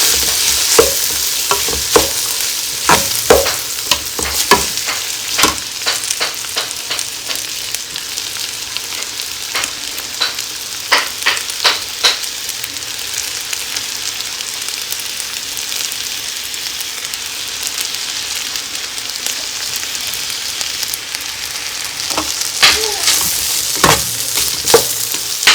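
Chinese fried rice is stir-fried in a pan with a constant sizzle, broken by sharp, irregular scrapes and clacks of the utensil against the metal, close and fairly loud, with no voices.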